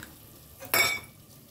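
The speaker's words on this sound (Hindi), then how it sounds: "आधा कटोरा पानी डाल देंगे" Half a bowl of water poured into saag greens cooking in a pot, giving a brief, loud rush of splashing and hissing that starts sharply and fades after a moment.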